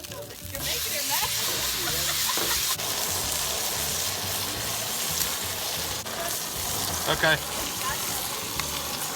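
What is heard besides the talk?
leg of lamb searing on a hot grill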